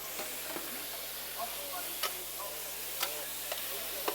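Onions sizzling in olive oil in a preheated FlexiChef tilting pan, a fairly quiet steady crackle with scattered sharp pops and ticks, heard up close on its own with no talk.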